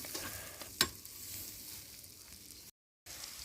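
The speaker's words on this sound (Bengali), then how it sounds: "তো করলা ভাজি তেলানি দেওয়া হচ্ছে" Bitter gourd (karela) slices frying in soybean oil on a village kitchen stove, a quiet steady sizzle with one sharp clink near the start and a brief dropout near the end.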